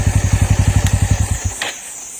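A motorcycle engine runs close by at a ticket gate of a grassland eco camp near Bogamati. Its idle throbs in a rapid, regular rhythm for about a second and a half, then cuts off, leaving quiet background.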